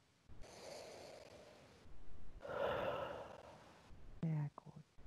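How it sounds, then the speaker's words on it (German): A person breathes deeply during a guided session: a long audible inhale, then a longer, louder exhale, both close and breathy, followed by a short vocal sound. "Und dann schnauf mal ganz tief durch"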